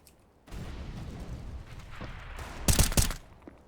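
Two sharp, loud gunshots crack in quick succession near the end of a competitive Counter-Strike match on the Train map, rising over a steady low rumble of game ambience.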